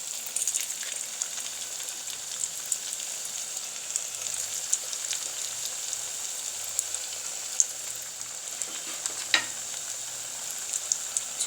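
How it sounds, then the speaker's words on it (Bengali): Potato smileys fry in hot oil over medium-low heat, giving a continuous bright sizzle with occasional sharper pops and faint clinks, steady and close throughout. "তেল গরম হয়ে গেছে, এখন আমি তেলের ভিতরে আস্তে আস্তে দিয়ে দিচ্ছি"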